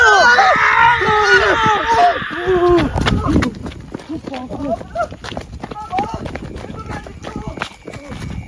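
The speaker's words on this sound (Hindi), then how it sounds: "भयानक चीख।" Terrifying screams at night on a road: loud, wailing, pitch-bending cries fill the first three seconds, then give way to voices talking and scattered rustling and footsteps.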